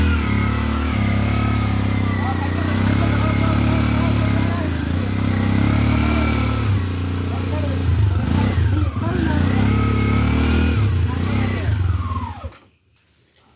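Motorcycle engine revving and clattering along a rough, damaged rural connecting road between Trishal and Phulbaria in Mymensingh, steady and close for most of the stretch, with people talking over it before the sound cuts off near the end.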